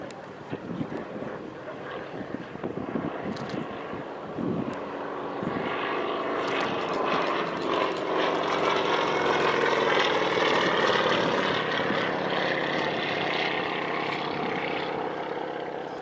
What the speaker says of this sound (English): Four-seat Yak 18T, conceived as a sort of communications aeroplane and an air taxi